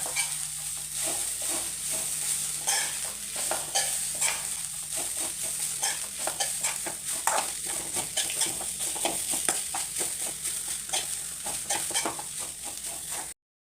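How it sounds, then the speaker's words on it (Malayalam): Grated coconut drying and roasting over a low flame in a pan, with a steady soft sizzle and frequent scraping stirs throughout, fairly close and without talk. "ആ തേങ്ങയുടെ ഉള്ളിക്കകത്തെ ഉള്ള ഈ വെള്ളമെല്ലാം നമുക്കൊന്ന് ചെറിയ ഫ്ലെയിം എടുത്ത് നമുക്കൊന്ന് പറ്റിച്ചെടുക്കാം"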